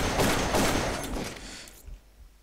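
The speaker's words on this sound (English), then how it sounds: "See, look, they're shooting at me again." Gunfire in the video game Darkest of Days: a dense, loud burst of overlapping shots that rolls off and fades within about two seconds.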